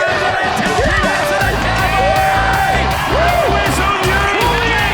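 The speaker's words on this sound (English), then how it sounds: "a quality ride that sent the crowd into a frenzy" A large rodeo crowd at the Mt Isa Rodeo roars and cheers after a bull ride, with whoops, yells and excited shouting sustained loudly throughout.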